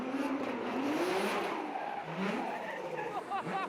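Trust Nissan GT-R 35 D1GP drift car arrives with engine roar rising and falling and tire squeal skidding near the end, moderately loud, while voices speak over it.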